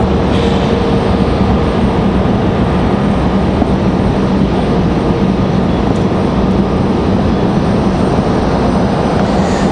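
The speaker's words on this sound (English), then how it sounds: "So we got Republic Airways on final." A Republic Airways airliner on final approach to Raleigh-Durham airport, heard as a loud, steady wash of jet engine roar with a low hum beneath, constant and close throughout with no voices.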